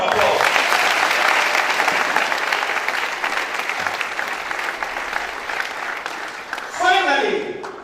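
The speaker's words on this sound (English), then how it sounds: "Please give them a round of applause." Sustained applause from a large crowd at a high school graduation ceremony, dense and steady clapping that gradually thins, with a brief burst of cheering and voices near the end.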